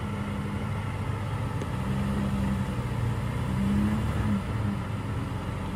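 A RAM 2500 pickup truck's engine drones steadily while stuck in a deep Florida mud hole, a low, continuous hum that swells slightly as it is revved, with no voices.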